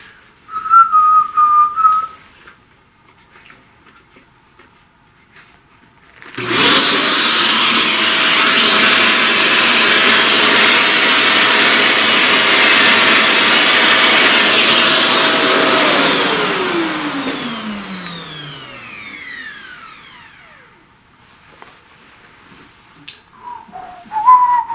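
A small vacuum cleaner switches on abruptly, runs as a loud, steady whine to suck up pastel dust, then winds down with a falling pitch, leaving near silence on either side.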